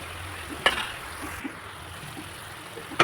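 A paste of cashew, poppy seed and melon seed sautés with spices in a pan, making a soft, low sizzle with a couple of sharp scrapes and clinks of a spoon.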